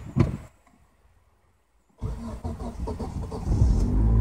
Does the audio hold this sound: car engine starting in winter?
yes